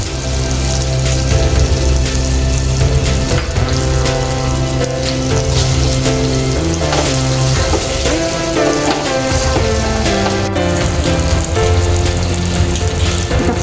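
Mustard dal crackles and sizzles steadily in hot oil for green chilli pickle, a loud, dense, continuous frying hiss with faint stirring under it and no talk.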